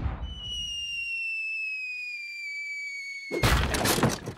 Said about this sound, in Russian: Так, выстрелим из пушки.